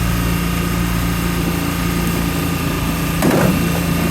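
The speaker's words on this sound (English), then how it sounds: "So it is running on idle, although it is kind of a fast idle there right now." A 2006 Mercury 15 HP outboard motor runs at a fast idle, a loud steady engine drone with a brief rattle near the end and no talking.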